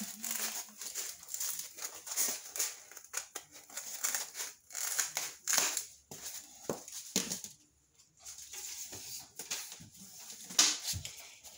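Scissors snipping and crunching through a foam pool noodle for a DIY headdress, irregular close cuts and crinkly squeaks with brief pauses, fairly loud, no talking.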